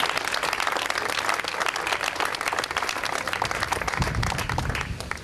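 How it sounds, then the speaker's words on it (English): Steady round of audience applause at an Apollo Theatre ribbon-cutting ceremony, dense clapping filling the room throughout. "I want to give him and offer him up a special round of applause for Dwayne Terry."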